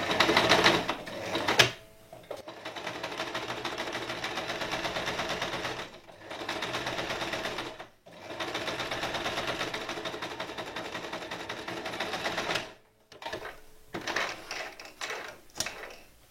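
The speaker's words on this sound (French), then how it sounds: "on va piquer comme ça tout du long pour piquer le coin" A sewing machine stitches along the corner of a fabric basket in long steady runs, with brief stops for backstitches, fairly close with no voices.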